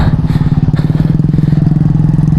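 A motorcycle engine chugs loudly and close during a ride, with a steady rapid pulsing throb and low rumble that stays continuous.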